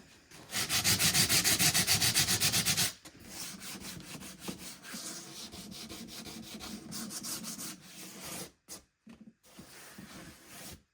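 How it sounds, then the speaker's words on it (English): Sandpaper of light grit rubs over painted wood in rapid back-and-forth strokes, loud and close at first, then lighter, more scattered passes with short pauses toward the end. "I'm just gonna lightly go over it with my sandpaper, just a light grit sandpaper, just to dull it down a little bit"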